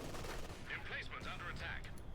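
Gunfire in the Company of Heroes 2 video game, a muffled steady rattle of shots and battle noise during a building assault, quiet and continuous with a faint voice underneath.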